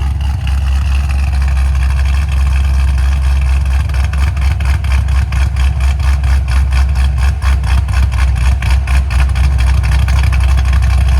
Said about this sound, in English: We're gonna get you a startup and a rev and all that good stuff.